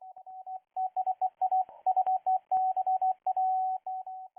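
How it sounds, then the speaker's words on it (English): A steady stream of rapid beeping data tones, clipped on and off in a fast irregular pattern: two FSK radio transmissions, 7 kHz wide at 20 baud. "What we're seeing here is 2 FSK transmissions, 7 kHz wide and operating at 20 baud."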